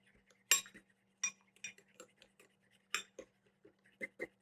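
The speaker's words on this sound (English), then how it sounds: "I'll mix it in." A spoon clinks against a pan while mixing a few tablespoons of cream into a country-style steak dish, giving sharp, irregular metallic taps spread through the moment with a steady low hum beneath.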